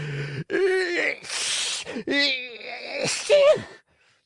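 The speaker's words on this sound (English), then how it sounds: "Two loud sneezes finished his speech." A voice acts out exaggerated gasping breaths and two theatrical sneezes, loud and close, with wavering vocal tones between them.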